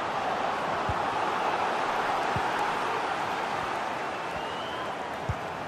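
Stadium crowd in EA FC 24 during an Al Hilal versus Al Nassr Kings Cup match, a steady broadband roar of cheering and noise with occasional low thuds, continuous throughout with no clear speech.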